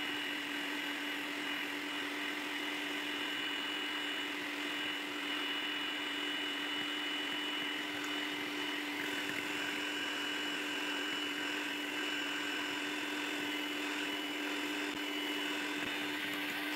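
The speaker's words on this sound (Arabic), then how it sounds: "ديروا السرعة الثانية تاع الخلاط الكهربائي" An electric mixer whips chantilly cream in a kitchen, a loud, continuous motor whine with a steady hum and faint whisking texture, running alone without pause.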